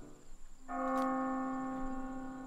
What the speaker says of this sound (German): Oh, die Glocken läuten.